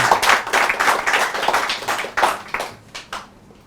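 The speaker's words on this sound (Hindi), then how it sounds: "तो एक बार आप जोरदार तालियां बजाएं" An audience at a poetry reading claps enthusiastically, a lively burst of many hands that stays strong for a few seconds, then thins and fades out toward the end.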